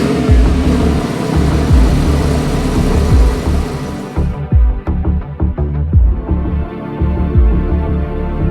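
Engine of a Porsche 911 997 on a test drive over a gravel road, a steady close throbbing drone with irregular thumps and knocks from the road surface, no talking.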